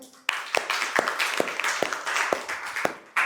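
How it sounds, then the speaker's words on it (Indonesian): Several sharp handclaps in a steady rhythm, roughly eight in three seconds, from a small audience at a lecture-style teaching presentation, fairly close and with no talking over them. "beri tepuk tangan dulu"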